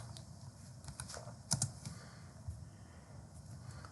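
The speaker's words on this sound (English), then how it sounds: "So I'll go back again and try to type." Keys tapped on a computer keyboard in bursts of quiet clicks, with a slightly louder cluster of strokes partway through, close and alone.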